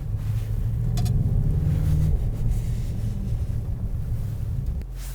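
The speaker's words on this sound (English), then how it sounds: "Some people don't like loud cars that make people look at them, but I do." A 2019 Mercedes-Benz GT63 on a test drive gives a steady deep engine drone inside the cabin, mixed with road and wind noise, continuous and fairly loud with no talking.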